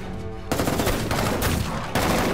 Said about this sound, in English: I'm assuming it's gunshots